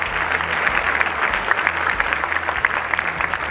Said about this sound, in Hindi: एक बार जोरदार तालियां होनी चाहिए आपकी तरफ से